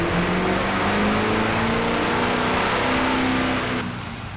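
A Duramax diesel in a Silverado short bed sport truck revs hard and close, its rising engine roar sustained for several seconds before dropping off at the end, with no talking.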